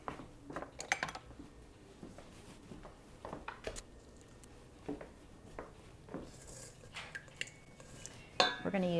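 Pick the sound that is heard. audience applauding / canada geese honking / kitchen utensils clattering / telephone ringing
kitchen utensils clattering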